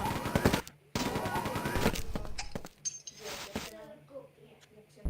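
Rapid chain gun fire in a competitive Quake-style deathmatch game, a dense burst of repeated shots under excited commentary, then scattered clinks and quieter game sounds as the commentator keeps talking.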